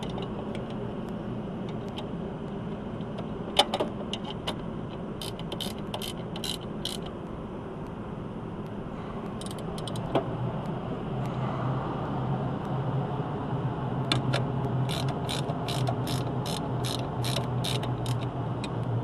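A ratchet tightening hardware on an HVAC pulley and belt assembly, bursts of rapid clicking strokes over a steady low mechanical hum, no talking.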